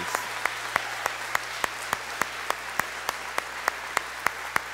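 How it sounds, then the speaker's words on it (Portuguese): A church congregation applauds, with sharp claps landing in a steady, even rhythm above a continuous bed of crowd clapping, moderately loud and without talk. "E aquela salva de palmas especial para eles."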